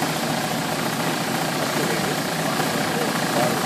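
A CEI slitter rewinder for labels, with shear knife slitting and 8-inch idler rollers, runs with a loud, steady mechanical hum and whir that holds constant throughout.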